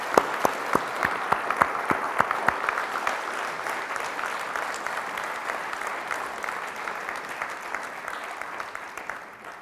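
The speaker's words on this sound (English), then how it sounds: "So please join me in a round of applause honoring Michael Tobes" Audience applause at an annual housing conference award presentation, a dense steady patter of many hands with sharp claps standing out near the start, gradually easing slightly over about ten seconds with no talk.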